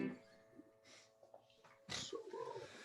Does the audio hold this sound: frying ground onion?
no